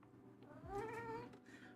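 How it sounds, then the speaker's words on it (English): A cat lets out one drawn-out, wavering meow, faint and somewhat distant, over a steady low background hum. "That's Pip meowing, by the way, if you're wondering what that noise was"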